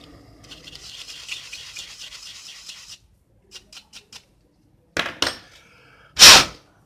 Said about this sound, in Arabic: قلنا نظفوا المروحة.